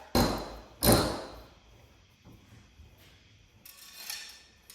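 Two loud metallic hammer blows close together on a metal knife holder, followed by quieter tapping and a softer ringing strike near the end.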